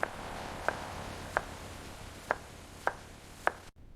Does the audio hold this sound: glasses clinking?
no